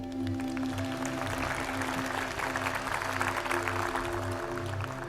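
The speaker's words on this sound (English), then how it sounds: "give a huge round of applause to the AV team" An audience at a business and life performance talk gives the AV team a steady round of applause, continuous clapping over a low hum, with no talking.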